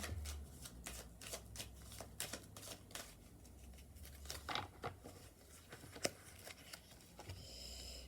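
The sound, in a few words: shuffling tarot cards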